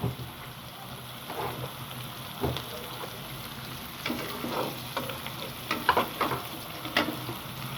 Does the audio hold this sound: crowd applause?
no